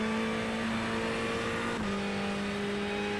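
A Ferrari 488 GT3 Evo race car engine in the iRacing simulator drones loudly and steadily, then pitch dips briefly at a gear change before it pulls again, with no one talking.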